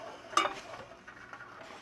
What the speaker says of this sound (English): we'll just start stirring her up a little bit.